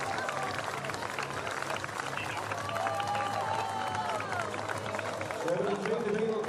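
A crowd applauding at the finish of a para-cycling road race at a world championships, steady outdoor clapping and cheering throughout under continuous commentary talk.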